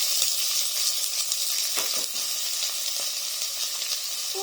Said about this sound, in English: and they go with the sizzle